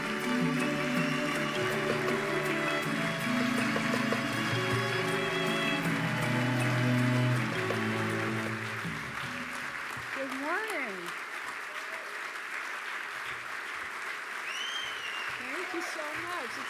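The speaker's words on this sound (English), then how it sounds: "Give her a big round of applause." Audience applause at an annual meeting opening plenary session, dense sustained clapping that fades out over the second half, with a voice speaking over it toward the end.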